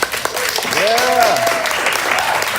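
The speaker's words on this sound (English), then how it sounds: "Please give a warm round of applause for John Kohler." Audience applause at the Texas Fruit Festival greets a speaker taking the stage, a steady wash of clapping under a swooping whistle-like tone, with voices murmuring through it.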